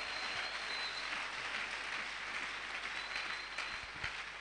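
Church congregation applauding loudly and steadily, a dense continuous wash of many hands clapping close by with no pauses.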